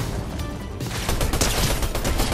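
Rifle fire in Fortnite, rapid dense bursts of gunshots crackling close and loud, growing more intense after a short lull, with no talking.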